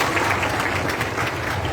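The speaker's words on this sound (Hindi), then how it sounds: "हम फादर जी को, फादर आबिद साहब को और फादर एरिक को अपनी भरपूर तालियों में खुशामदीद कहते हैं।" A crowd at a Marian pilgrimage gathering applauds to welcome priests, giving dense, continuous clapping from many hands at close range with no speech over it.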